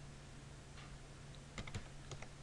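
Computer keyboard typing a command, a few faint, quick key taps clustered together over a steady low background hum, with no voices.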